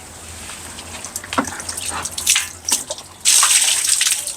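Water released into a frog pond, splashing and trickling in bursts that swell into a steady louder gush near the end, close by, no talk.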